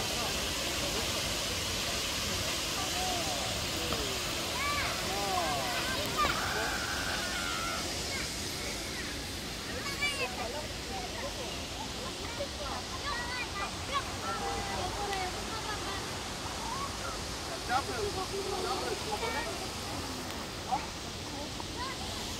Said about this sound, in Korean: 시원한 천전폭포 물소리를 들으면서